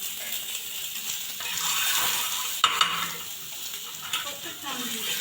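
An egg fries in a pan with a soft, continuous sizzle, a few metal clinks of utensils and quiet voices nearby.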